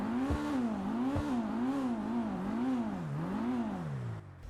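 The Pfister Growler sports car in GTA 5 Online revs loudly in repeated wavering bursts, its engine note rising and falling in a steady rhythm before cutting off abruptly.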